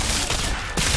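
Heavy gunfire in the video game Singularity, a dense burst of shots and explosive blasts filling the second, with a short break and then a fresh volley.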